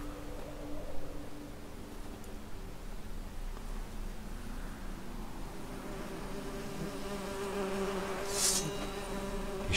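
Bees buzzing in The Witcher 3: Hearts of Stone, a steady insect drone with a low hum running underneath, growing slightly louder toward the end and capped by a brief sharp burst.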